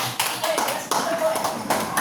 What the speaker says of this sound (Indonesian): Tepuk tangan dulu untuk Asisten